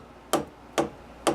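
A hammer taps metal stock seated against the face of a four-jaw chuck on a South Bend Model A lathe, three sharp, evenly spaced close knocks in a quiet shop.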